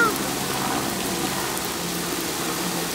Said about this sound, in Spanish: ¡Nos está tirando agua el helicóptero!